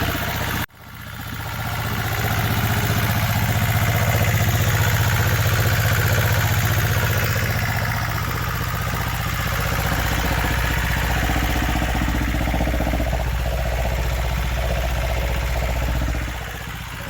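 A Lister TS2 twin-cylinder diesel engine, a 1960s British design, starts with a sharp burst and settles into a loud, steady, close-up running chug that continues throughout, with no talking.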